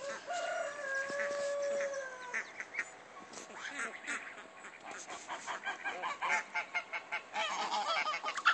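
A farm goose that hatched ducklings honks in a few drawn-out calls, then switches to a run of quick, rhythmic honks, close and fairly quiet, with no talk over it.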